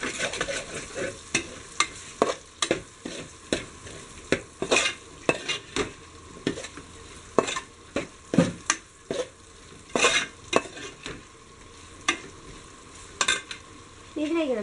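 A spatula stirs beef fried rice in a hot pan, giving a steady stream of scraping strokes and clinks over a soft, continuous sizzle at moderate loudness.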